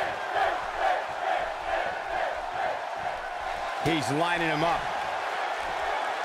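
A virtual arena crowd in the WWE 2K18 wrestling game roars steadily through a TLC 2017 match, with someone commentator talking over it and a brief shout partway through.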